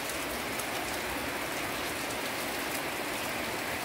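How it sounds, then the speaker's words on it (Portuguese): Heavy rain pours steadily during a November thunderstorm, a dense even hiss of drops on surfaces with no break, no voices, no thunder. "Chuvinha aqui, a gente tudinho olhando"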